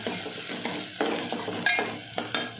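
Chopped medium onion with mustard seeds is stirred in a hot pan, giving a close sizzle broken by several sharp scraping strokes of the spoon against the pan.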